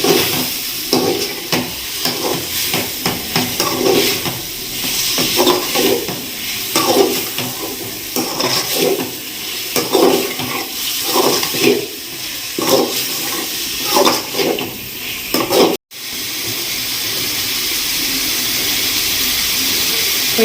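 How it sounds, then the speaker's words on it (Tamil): Mint and coriander leaves sautéing in a pan for chicken biryani make a loud, continuous sizzle with rhythmic stirring scrapes and clatters, broken by a brief dropout near the end before the hiss resumes. "இப்போ எல்லாம் சேர்ந்து நமக்கு நல்லா வதங்கிடுச்சு"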